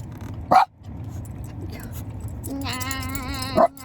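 A dog gives two sharp, separate barks about three seconds apart, nearby, amid faint background noise and a tonal hum in between.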